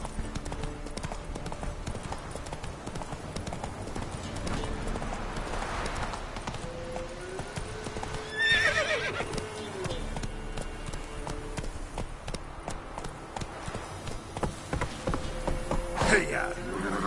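Horse hooves clip-clop at a steady gallop in The Witcher 3 on PS5, running throughout with faint game ambience, a brief whinny-like cry near the middle, and someone talking over it.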